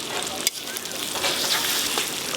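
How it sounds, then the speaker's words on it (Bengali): Ginger paste sizzling in a hot pan as cumin paste goes in, a close, steady frying hiss with stirring, a brief clatter near the start. "আদা ভাজা ভাজা হয়ে গেছে, এবার জিরে বাটাটা দিয়ে দেবো"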